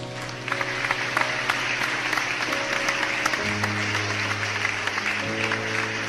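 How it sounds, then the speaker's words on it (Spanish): A church congregation applauds loudly and steadily for several seconds in a large hall, with sustained keyboard or organ notes playing underneath. "Un aplauso fuerte a Jesús"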